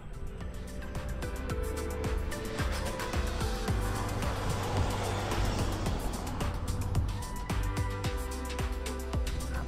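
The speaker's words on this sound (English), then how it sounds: "Let this car go by." A car drives past on the narrow Wrynose Pass road in the Lake District, its engine rumble swelling steadily and continuously across the scene with no talk.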